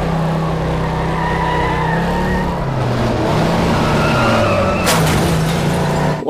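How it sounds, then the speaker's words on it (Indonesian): A blue toy race car runs with a steady whirring motor drone and a wavering siren-like tone throughout, fairly loud and close with no talking. "Ada mobil balap warna biru"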